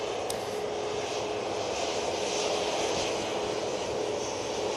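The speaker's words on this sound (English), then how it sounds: "that TUI was off to Mahan, 737-800" A TUI Boeing 737-800 departs Manchester Airport bound for Mahan, its jet engines a steady, fairly distant broadband roar with no break.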